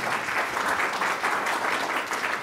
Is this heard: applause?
yes